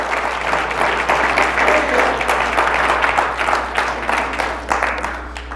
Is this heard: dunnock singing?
no